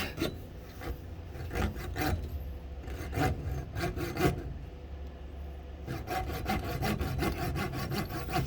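Hand sawing through a part of a Rivarossi Big Boy model locomotive during a repair and rebuild, with repeated rasping strokes in bursts, close and steady, with a brief pause midway.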